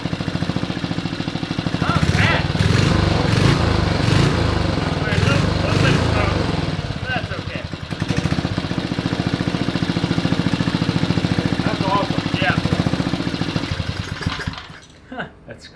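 Small 5HP Briggs and Stratton generator engine, found abandoned and running with its cover off, keeps up a steady, loud mid-pitched chug for most of the stretch, partly under excited voices, then cuts out near the end.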